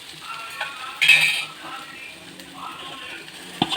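Dried fish stir-fried with onion masala in a pan, with soft scraping and clinking of a spoon against the vessel, one louder clatter early and a sharp knock near the end, over a faint low sizzle.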